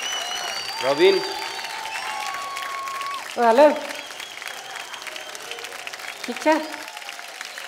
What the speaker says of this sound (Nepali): जोरदार तालीले स्वागत गरौ